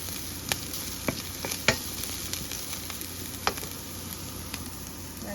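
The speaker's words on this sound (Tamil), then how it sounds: "கடலைக்கு தாளிச்சு கொண்டுருக்கோம் கொஞ்சம் லைட்டாக கொஞ்சம் வெங்காயம் போட்டு கொஞ்சம் வெங்காயம் போட்டு கருவேப்பிலை தாளிச்சுட்டு போடுறது" Chickpeas tempered with onion and curry leaves crackle and sizzle steadily in a hot pan, with a few sharp pops and spatters over the constant frying hiss.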